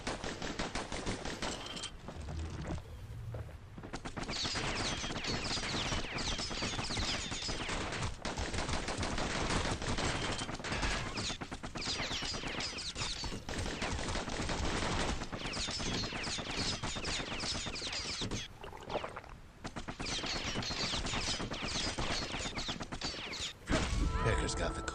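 Guns fire almost nonstop in the action video game Bastion, rapid bursts of shots packed into a dense, loud barrage with only a few brief pauses, over a busy game soundtrack.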